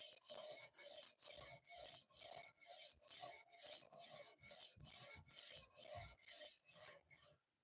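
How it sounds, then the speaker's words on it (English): Quiet, rhythmic rasping strokes of a blade against a sharpener repeat about twice per second, with a brief gap between each pass, close to the microphone and without any voices. "You should change the way you're sharpening that knife."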